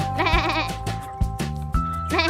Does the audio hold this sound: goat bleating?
yes